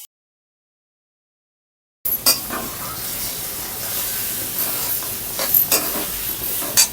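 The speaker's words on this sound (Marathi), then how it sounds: "फोडणी झाली आपली व्यवस्थित डाळ घालायची" After two seconds of silence, a loud hiss and sizzle bursts in as soaked ground mung lentils are tipped into a hot oil tempering, with a few sharper spits and crackles.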